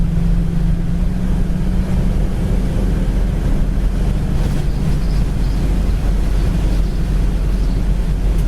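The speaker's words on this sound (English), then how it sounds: "It's a really windy day today." Strong wind buffets steadily on a very windy day, a constant loud rushing roar with low rumble, heard alone without voices.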